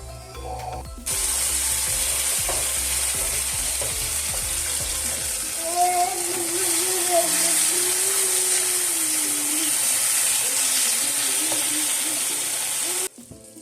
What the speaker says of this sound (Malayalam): നമ്മൾ പെട്ടെന്ന് തന്നെ അതും കൂടി ഒന്ന് ഫ്രൈ ചെയ്യുന്നുണ്ട്